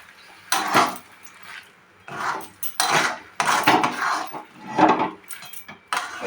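Spice masala being mixed in a pan makes loud, irregular metallic scrapes and clanks from a utensil against the pan, in short bursts with brief pauses between them and no talking.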